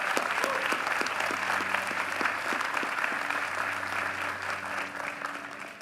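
Continuous applause from a large commencement crowd at Morehouse College honouring retiring faculty, steady and full, with a low sustained organ-like tone and brief chimes running beneath it.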